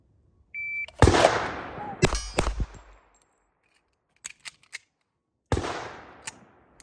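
Pilot Mountain Arms 1911 pistol firing sharp, loud shots in small groups, with a pause for a magazine reload and a last shot near the end, plus metallic clicks and handling noises between shots.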